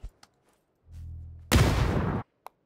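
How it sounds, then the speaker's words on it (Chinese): A grenade explodes in the video game PUBG, heard as a loud, close burst lasting under a second, preceded by a low rumble and followed by a brief click, with no talk. "这个就在我后面爆炸"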